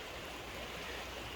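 Stream water flows steadily along the Goldfields hiking track, a continuous broadband rush close by with no voices over it.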